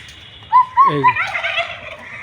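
A large fowl nearby gives a loud, bubbling gobble-like call of several quick rising notes lasting about a second and a half. It is clear against a quiet yard background.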